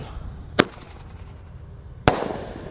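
Two Lebaran firecrackers burst one after another about a second and a half apart, each a sharp, loud crack close by, with the second leaving a longer rolling echo.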